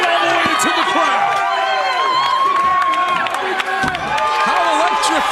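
A wrestling crowd roars and cheers on its feet inside the Impact Zone arena at a live TNA Impact event. The dense, steady, loud crowd noise runs throughout under an excited commentator's voice.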